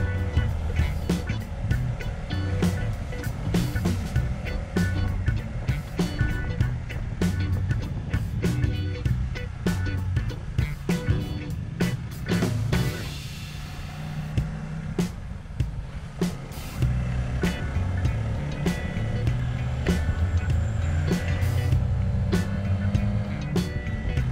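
Car engine droning steadily while climbing a winding forest road near Rancah, Ciamis, West Java, with rumbling tires and frequent knocks and rattles, under spoken commentary throughout.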